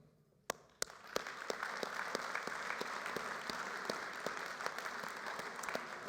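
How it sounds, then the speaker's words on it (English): A high school graduation audience breaks into applause, a few sharp individual claps first, then steady wide crowd clapping from a distance, fairly faint and sustained. "Please join me in applauding to thank the members of our audience"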